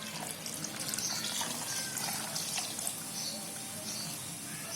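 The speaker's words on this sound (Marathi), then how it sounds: "असे सोयाबीन घ्यायचे आणि त्याच्यामध्ये पाणी ओतायचं" Water is poured onto soybeans in a home kitchen, a steady close splashing and rushing stream that runs continuously and fairly softly throughout.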